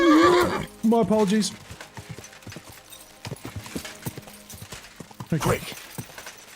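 A horse whinnies loudly up close in Kingdom Come: Deliverance II, then quick hoofbeats clatter along in an uneven rhythm, and a second shrill neigh rises near the end, with someone speaking briefly in between.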